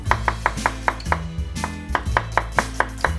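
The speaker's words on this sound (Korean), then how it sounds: "양파는 많이 안 넣으셔도 돼요. 요거 한 반 개 정도만 슬라이스 썰어서" A knife slices through half an onion on a cutting board, giving a string of crisp, evenly spaced chops close by, about a dozen in quick rhythm with brief pauses.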